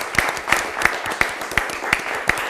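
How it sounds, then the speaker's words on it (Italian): Clapping for a team on a quiz show, loud and close with a strong rhythmic pulse of roughly three beats per second, like a small group clapping in time, with no speech over it. "Bravi ragazzi, fatevi un applauso anche se canto forte."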